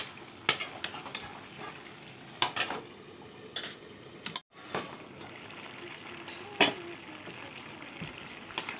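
Sabla dish stir-frying in a pan, soft steady sizzle under repeated scraping clicks of a spatula against the pan.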